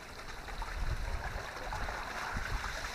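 Pond water pump pushing water, a continuous low churning rush and trickle, steady and moderately close, with no voices.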